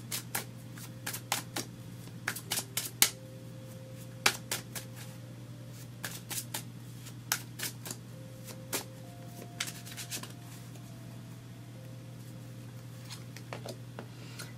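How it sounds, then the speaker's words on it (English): Tarot cards being shuffled by hand in a quiet room: repeated soft, crisp riffles and taps in irregular bursts at close range over a steady low hum, with no talking. "We're going to pull some cards for mid to late October now."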